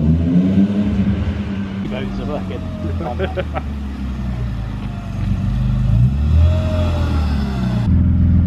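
A BMW E36 with an M52 engine hums and revs under close conversation, its pitch rising and falling as the car drives a lap.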